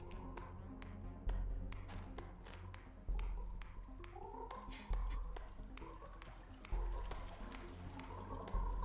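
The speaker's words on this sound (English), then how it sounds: "So many frogs." Frogs croak in the video game Below The Stone, a cluster of bubbly, gurgling calls repeating in bursts amid regular thumping digging impacts.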